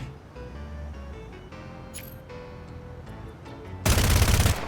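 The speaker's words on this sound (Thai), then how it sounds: "โอ้เสียงปืนแม่งยังดังเลยอ่ะ" Mobile roleplay game City of Outlaws sounds and music, ending with a loud burst of rapid gunfire near the close.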